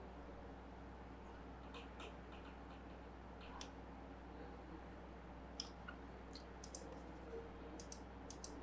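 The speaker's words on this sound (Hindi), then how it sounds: "यहीं पे राइट क्लिक करूँगा और ऐड सीन पे क्लिक कर देता हूँ" Computer mouse clicks while working in SketchUp, faint and scattered, several quick clicks spread across a quiet room hum with no talk.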